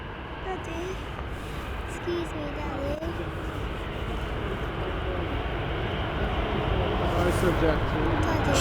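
A jet airliner on approach to land at Manchester Airport from runway 05L, a steady loud engine roar and whine holding throughout with little change, while someone speaks over it.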